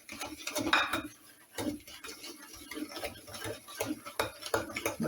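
A spoon knocks and scrapes against a bowl while stirring pumpkin cake batter, giving a close, irregular series of light clinks and taps that come in bursts between quieter moments.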